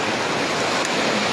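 Floodwater surging during Typhoon Berbena roars as a dense, steady rush, loud and close, with no break across the whole short stretch.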